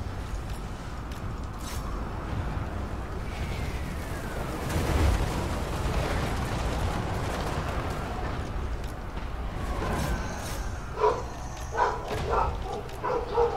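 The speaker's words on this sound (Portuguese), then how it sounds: "Peraí, que meus cachorros estão muito loucos aqui." Several dogs barking in a room, sharp yaps popping out over a dense rumble of battle noise from a Total War Warhammer 2 siege, with the barks clustering near the end.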